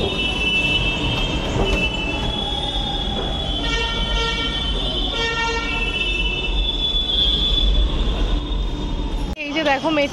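A metro train at Charbagh metro station in Lucknow gives a loud, continuous rumble with squealing wheels and a brief horn-like tone near the end, while people talk faintly in the background.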